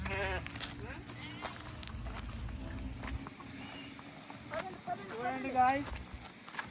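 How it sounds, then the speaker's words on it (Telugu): Sheep bleat a few times amid shuffling hooves and outdoor rustle, with people talking over much of it. "గొర్రెలు పరిగెడుతున్నాయి"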